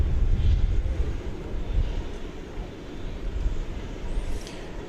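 A UPS cargo plane at DFW Airport gives off a steady, broad jet engine roar that holds at moderate loudness throughout, with some rumble and wind buffeting and no voices.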